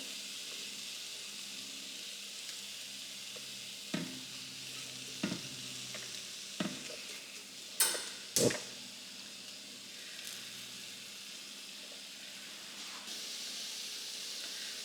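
Shrimp sizzle steadily in a hot pan, a continuous frying hiss broken by several sharp clicks and scrapes as the pieces are moved and turned.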